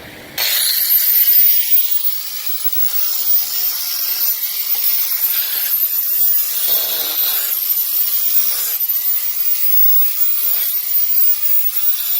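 Fiberglass filler on a damaged RIB boat is sanded down, a continuous close, hissing abrasive rasp that runs steadily for several seconds with slight strokes and variations.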